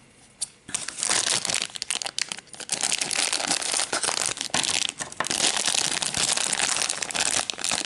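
Packaging from a Japanese subscription box being opened, with loud, continuous crinkling and crumpling of plastic and paper, broken by a few short pauses.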